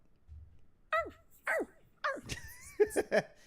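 A man imitates a dog with a few short, yelping barks and whimpering yips spaced across a few seconds, near and fairly loud, with faint low voices murmuring before the first bark.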